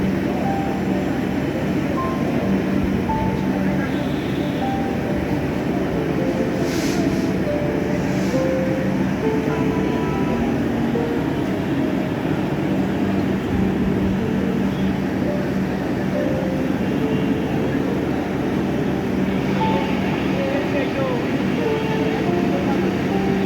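A train pulls in at platform 3 of Santahar railway junction, a steady broad rumble of rolling wagons filling the whole stretch at close range, with faint voices and station bustle mixed underneath.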